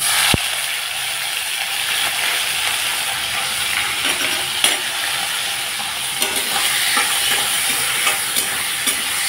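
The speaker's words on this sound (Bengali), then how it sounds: "একটু কড়া করে ভেজে নিলাম।" Dried fish fries in mustard oil seasoned with a little turmeric and salt, giving a loud, steady sizzle and crackle with occasional sharper pops and stirring scrapes, close up and without talk.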